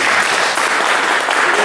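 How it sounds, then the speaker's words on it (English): Audience applause at an improv comedy show in Eugene, a dense, steady burst of clapping from a crowd, loud and continuous throughout. "You can clap for her, too."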